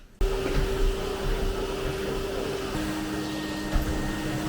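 A household vacuum cleaner hoovering up pet fur indoors, running as a steady close drone with a constant motor whine that shifts pitch slightly partway through, with no talking.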